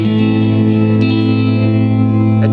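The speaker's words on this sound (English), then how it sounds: "Fender amp with the dark sound with some tremolo." An electric guitar chord rings out loud and sustained through a Fender amp set to a dark sound, its tone wavering with a steady tremolo pulse.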